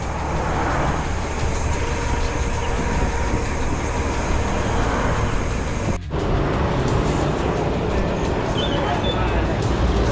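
Road traffic of cars and buses slowed by a church procession near the Teresa town boundary, on a Sierra Madre loop drive: a steady, dense engine and tire rumble runs throughout with a brief dip near the middle.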